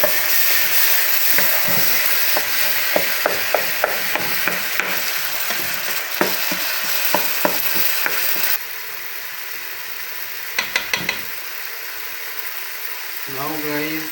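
Chicken capers stirred in a frying pan, with a spoon scraping and clacking in a quick irregular run over a steady sizzling hiss, then a few sharp clinks and a short scrape near the end.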